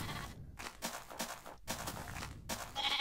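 Sheep bleating in Minecraft over a steady background of game ambience and rustling, with a few thumps; the bleats are fairly faint.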